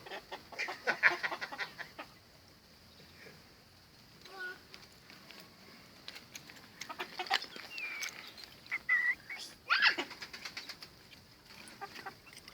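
Chickens cluck and chatter nearby while being fed, with scattered soft calls and a brief flutter, mixed with faint voices of adults and a child in an outdoor setting.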